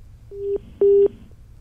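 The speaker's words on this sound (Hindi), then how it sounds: "कट गया मनोज झा का फोन" A telephone line drops during a news broadcast, sounding two short, loud, steady beeps of a busy tone in quick succession, clean and alone with no talk.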